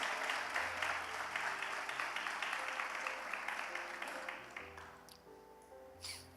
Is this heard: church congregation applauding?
yes